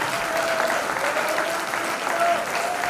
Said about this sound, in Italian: Un grandissimo applauso a Gianmarco Landi e Alessandro Sieni.